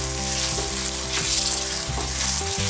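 Green chillies fry in oil, sizzling steadily and crackling as they are stirred in a pan, with a close, continuous hiss and no voices.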